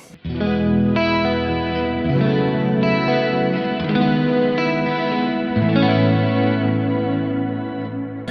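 Electric guitar through a Kemper Profiler with no POG pitch shifter plays a steady stream of chorused, slightly driven chords, with a wet effected shimmer carrying over the changes and no voices.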